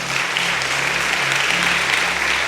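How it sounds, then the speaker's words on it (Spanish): Church congregation applauding for visiting friends during a service, a dense, loud, continuous roar of clapping that holds steady throughout with a low hum beneath. "Demos un aplauso a nuestros amigos."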